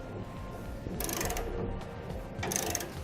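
Ratcheting clicks of a torque wrench tightening the rear bolts of a TorkLift SuperHitch trailer hitch receiver, close and mechanical, with two louder bursts of rapid clicking over a steady low background.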